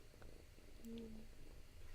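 A pet cat purring softly and continuously at close range, a low steady rumble under faint room noise with a brief tonal hum in the middle.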